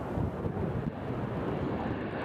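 An airliner lands at Nashville International Airport, heard as a steady, broad roar of engines and rushing air at moderate distance, with wind buffeting the microphone throughout and no voices.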